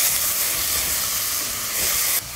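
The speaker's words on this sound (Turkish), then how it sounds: "Etlerimiz mühürlenmeye başladılar." Lamb meat sears in a hot pot, giving a loud, steady sizzling hiss that keeps going and drops off sharply near the end.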